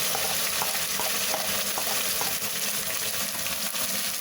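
Sliced tomatoes and capsicum cooking in a pan for a masala chicken curry, a loud, dense sizzle with a watery hiss and faint stirring taps throughout, no voices.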